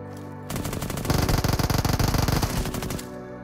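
A FAMAS assault rifle fires a sustained rapid burst of automatic gunfire in the video game PUBG, sharp closely spaced shots, loud and near, running for about two and a half seconds before cutting off.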